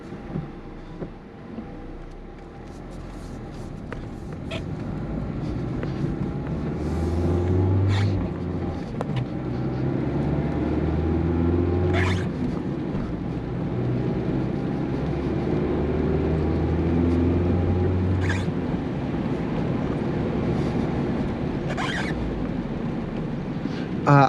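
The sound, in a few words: 2023 Mazda Miata manual car driving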